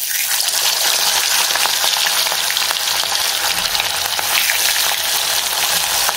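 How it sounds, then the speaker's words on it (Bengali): Pieces of fish frying in hot oil in a home kitchen give a loud, steady, close sizzle with crackling pops throughout, without any talk. "লাস্ট 2 পিস মাছ ভাজা হচ্ছে"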